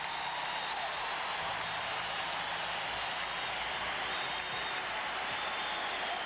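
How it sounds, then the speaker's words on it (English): Steady applause from a large crowd filling a basketball arena at a 1980 University of Iowa game, a dense continuous wash of clapping with no breaks, heard alone without voices. "the crowd applauds"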